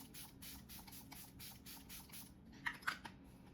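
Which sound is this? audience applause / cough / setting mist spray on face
setting mist spray on face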